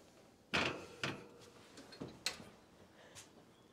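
An oven door is handled and shut after a pan of white bread dough goes in, giving a few sharp clunks and knocks spaced through the quiet, the first the loudest.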